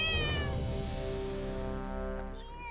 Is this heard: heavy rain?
no